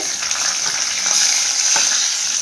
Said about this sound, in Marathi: आता मी मिरच्या घालते